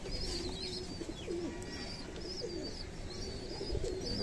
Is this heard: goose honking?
no